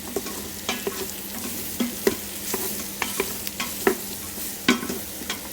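Mushrooms and lardons sizzle in a multicooker while being stirred, with a steady frying hiss broken by repeated scraping strokes of a utensil, close up and with no one speaking.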